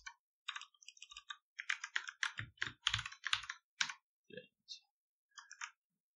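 Code being typed on a computer keyboard during an iOS app tutorial, with quick irregular clusters of crisp key clicks and a few heavier taps, close and clear with pauses between bursts.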